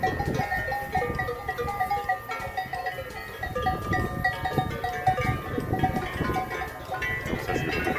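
Bells hung on cows during a spring transhumance in the Ossau valley clang and ring in an irregular jangle, several bells overlapping close by with the shuffling of a livestock herd, and no talking.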